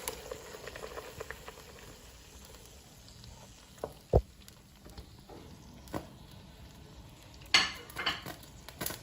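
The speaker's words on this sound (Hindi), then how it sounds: "अब वो करकरा रहे हैं, तो उसके अंदर अब हम इसके अंदर प्याज ऐड करते हैं।" Onion goes into a clay pot of crackling achari spices (fennel, cumin, mustard seed, nigella) for an eggplant and potato sabzi, giving a soft, low sizzle with occasional sharp clinks and stirring scrapes.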